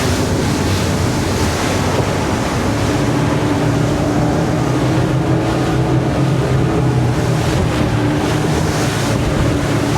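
An E-Motion 36 motorboat hull runs hard over waves, with a steady loud rush of water and surf washing over an engine drone and wind buffeting the microphone throughout.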